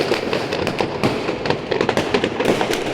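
New Year fireworks go off in rapid overlapping bangs and crackles, a dense continuous barrage of sharp pops from several launch points with no break.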